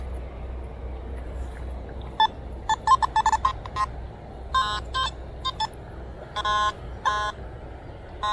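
A metal detector in the woods sounds irregular short bursts of electronic signal tones over a low rumbling background while sweeping over an iron target, the beeps coming in uneven clusters.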